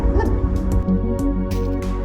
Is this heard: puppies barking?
yes